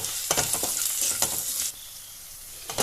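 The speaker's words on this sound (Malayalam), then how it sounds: "ഇതിൻ്റെ പച്ചമണമൊക്കെ മാറി വരുന്നിടം വരെ നന്നായിട്ടൊന്ന് മൂപ്പിച്ചെടുക്കാം" Kashmiri chili powder sautés in a pan for pickle, giving a bright, hissing sizzle with a few quick stirring scrapes, loud and close, then easing slightly before another stroke.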